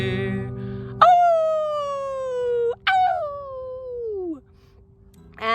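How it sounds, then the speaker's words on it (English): A lone coyote's howls, two long drawn-out falling wails with a rising start to a third, heard clearly over a low background hum. "The lonesome note of the lone coyote is a song that you can hear"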